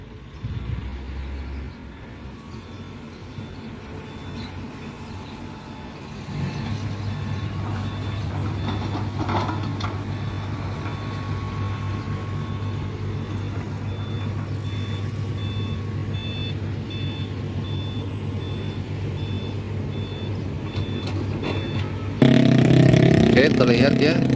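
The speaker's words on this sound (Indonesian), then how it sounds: "terlihat ya antrean beberapa unit dump truck untuk mengangkut tanah di area tebing Tenjo Ayu ini" Several dump trucks queue to haul soil at a cliffside toll road construction site, with a steady low engine drone throughout and faint repeating backup beeps in the background, growing louder near the end.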